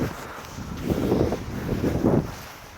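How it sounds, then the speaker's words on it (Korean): Strong wind blows across an outdoor campsite while a tent is being pitched, roaring against the microphone in two loud gusts that rise and fall over a steady rushing background. "오늘 바람이 많이 부네"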